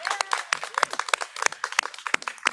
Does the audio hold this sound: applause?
yes